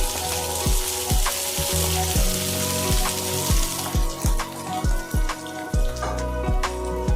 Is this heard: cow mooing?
no